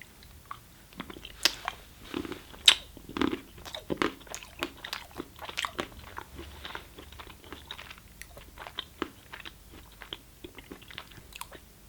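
Close, crisp bites and steady crunching chews of a Sri Lankan ginger caramel chocolate, a quiet run of sharp clicks and mouth sounds over about twelve seconds with no talk.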